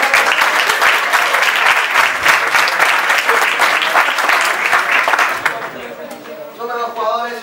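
A theatre crowd at an improv match gives loud, dense applause that holds for several seconds, then tapers off as a voice begins talking near the end.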